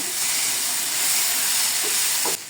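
Onions frying down thick in a pan for a river fish curry, a steady close sizzle and hiss that runs evenly throughout, with a couple of brief stirring clinks near the end and no talking.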